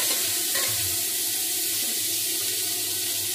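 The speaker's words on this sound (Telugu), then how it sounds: "ఆయిల్ వేసిన తర్వాత ఇట్లా ప్యాన్ మొత్తం స్ప్రెడ్ చేయాలి." Cooking oil spread around a hot pan, giving a steady, even frying hiss with faint scraping as it is swirled; no one speaks.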